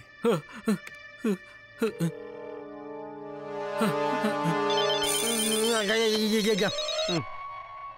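A melodic phone ringtone plays for several seconds, building from a few separate tones into a steady bright ringing tune, fairly loud and close.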